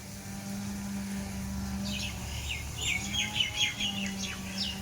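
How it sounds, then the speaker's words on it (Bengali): Several birds in a tree after rain break into a quick burst of bright chirps and twitters partway through, fairly close, over a low steady hum. "পাখিগুলো ডাকছে এত আনন্দ করে"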